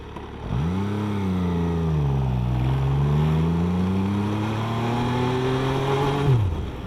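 MV Agusta F3 800 motorcycle engine under way with a quick shifter, one smooth rising rev held for several seconds, then a sharp drop at the end, loud and close.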